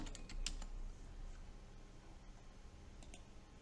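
Quiet typing on a computer keyboard while a form in a Word document is filled in, with scattered soft key clicks over a low background hum.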